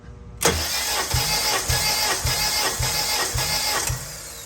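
A car engine cranks over during a cylinder compression test with a Performance Tool PT W80584 compression tester, giving about seven steady, rhythmic compression pulses under the starter's whir, close and fairly loud, with no talking.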